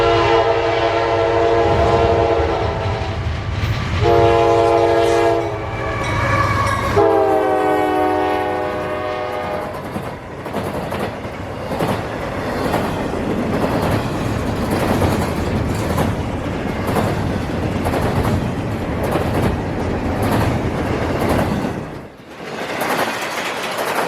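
A northbound CSX priority intermodal freight train at the Plant City interlocking in Florida sounds a loud horn with several blasts, then rolls past close by in a steady, heavy roar of wagons and wheels.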